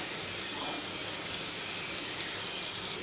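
Masala sautéing in a pan for kothu parotta, a continuous close sizzle and hiss with no talking.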